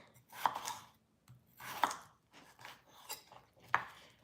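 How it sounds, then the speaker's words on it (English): A knife slicing boiled-bound potatoes on a board in a home kitchen, giving a few sharp, quiet cuts spaced about a second apart, close and clear with soft handling noise between. "slice it like this. So it's easier to like kind of grate once the potatoes are boiled."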